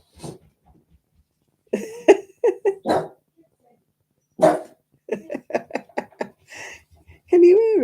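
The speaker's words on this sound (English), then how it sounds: "She's still barking." A dog gives repeated short, close barks and coughing yelps in irregular bursts, with quiet gaps between and a longer whine-like call at the end.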